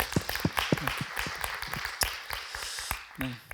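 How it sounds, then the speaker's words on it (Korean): A congregation at a university church worship service gives scattered applause, a loose run of uneven claps with a voice briefly heard. "우리 하나님께 영광의 박수 올려드리겠습니다."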